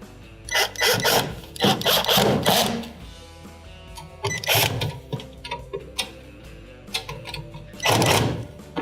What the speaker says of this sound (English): Now you can put your 2 screws back on the bottom.